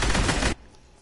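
Rapid sustained automatic fire from a drum gun in a video game, a dense loud burst lasting about half a second that cuts off abruptly into quiet.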